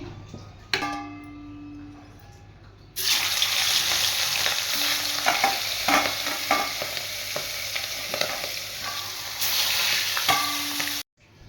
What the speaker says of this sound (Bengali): আমি মাছগুলো এবার ভেজে নেব এই আর মাছ কিন্তু প্রচণ্ড তেলে ফাটে